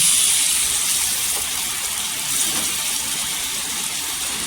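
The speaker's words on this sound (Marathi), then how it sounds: "मी इथं कोमट पाणी टाकणार आहे, 1 ग्लास पाणी टाकणार आहे" A glass of lukewarm water poured into an aubergine curry in a pan, making a continuous rushing, gushing pour that stays steady and close for several seconds without speech.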